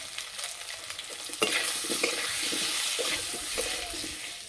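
Ground spices (ginger paste, chilli, turmeric and cumin) frying with a splash of water while stirred, a close sizzle that swells after a sudden hiss, with repeated scraping stirs.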